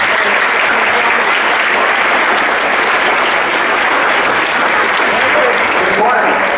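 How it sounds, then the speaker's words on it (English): Loud, dense applause from a large school audience greeting a guest speaker named Mad Dog, a steady wash of clapping that holds evenly from start to finish with no voices breaking through. "Right now, I want your best round of applause for Mad Dog."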